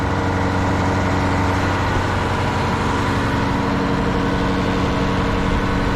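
The engine of a WWII-era crawler crane idles smoothly nearby, a steady low, even rumble with no voices.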